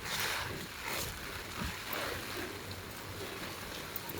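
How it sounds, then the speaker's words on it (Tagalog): Heavy typhoon rain falls on Lamma Island at Yung Shue Wan, a dense continuous hiss of downpour with wind buffeting, steady and fairly loud throughout and no voices. "Lakas ng ulan oh."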